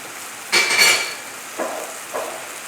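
Tamari gluten-free soy sauce stirred into a sauce in a pan: a loud scraping clatter of utensil against cookware, followed by two softer stirring scrapes, with no talking.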